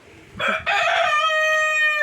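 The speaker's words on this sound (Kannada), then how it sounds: "ಸುಮ್ಗಿರಪ್ಪ ಬಡ್ಕತಾ ಅದೇ ಕೋಳಿ" A rooster crows loudly and close by, one full drawn-out call with no voices around it.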